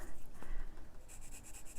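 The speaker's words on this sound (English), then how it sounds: "I will be coloring that in with the turquoise blue." Close, quiet scratching of a turquoise blue colored pencil on a coloring book page, with short rhythmic strokes that grow more regular toward the end.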